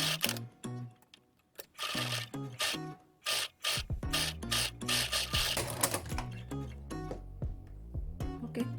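A sewing machine stitches the centre of a cloth face mask lining about 2–3 mm from the edge, sounding as close mechanical whirring bursts with rapid rhythmic clatter and brief pauses between runs.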